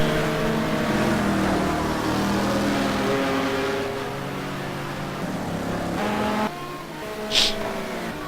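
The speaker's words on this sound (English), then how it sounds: "Porsche is getting up a Rouge pretty well with quite a bit of momentum, so that's helping Chris quite a bit to fend off the big Viper power" GT2 race cars, a Porsche and a Viper, racing at the Spa circuit, heard as a continuous loud engine drone with shifting pitch, a gear change, and a brief high whine near the end.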